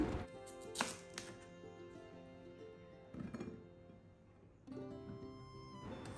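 A knife chops a fresh white tuber into small pieces on a board, with several crisp, separate thunks spread across the stretch, close and clear in a quiet home kitchen.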